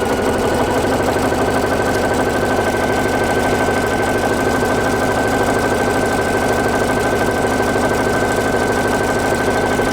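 Pfaff Creative Icon sewing machine running a dense decorative satin stitch, a loud, close, continuous rapid mechanical chatter with a steady motor hum throughout, no talking.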